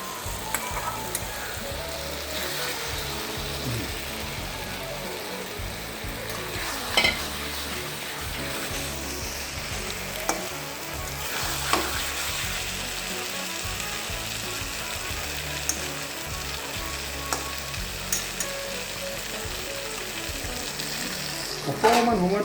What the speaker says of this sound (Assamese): এতিয়া মই এই মাছখিনি এপিচ এপিচকৈ দি দিওঁ, এনেকৈ দিওঁ আৰু মানে বিলাহীৰ লগত মিলি যাওক।